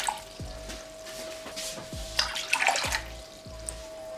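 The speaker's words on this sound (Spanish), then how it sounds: "Ahora vamos a agregar 2 vasos de agua" Water is poured for a homemade hair tonic of quina and rosemary, two glasses' worth, with steady splashing and trickling close by, a few louder gushes in the middle and a faint hum underneath.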